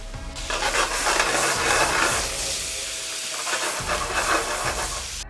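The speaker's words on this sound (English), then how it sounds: "I'm adding the strawberries. I'm adding a little bit of sugar. I'm sauteing them and a little bit of mint." Strawberries sautéing with sugar and mint in a pan, a loud, continuous hissing sizzle close up that swells and eases, with low thumps of the pan shifting; no talking.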